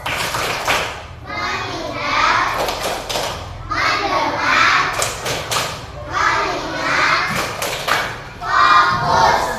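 A group of children performs a rhythmic clap-and-chant routine, with repeated cycles of loud sung voices and bursts of hand claps and thumps, energetic and close, continuing through the whole stretch.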